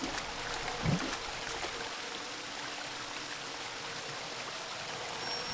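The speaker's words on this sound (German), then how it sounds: "Ein Wasserfall aus Blut." Gushing blood waterfall in the video game Shadowman, a steady broadband rush of flowing liquid like a stream, continuous and fairly loud throughout with no voices.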